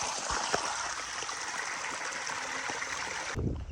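River water rushing over stones in a forest, a steady close broadband flow that runs alone and cuts off abruptly near the end.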